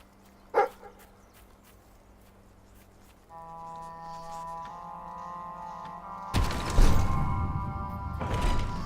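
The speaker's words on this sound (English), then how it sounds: "What are you barking about?" A dog barks in a video game: a single sharp, close bark stands out early over a steady tonal game hum, and a loud rushing burst of noise follows later.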